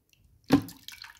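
Blended garlic poured into a glass of cold water, a brief liquid splash and gurgle up close, followed by softer trickling drips.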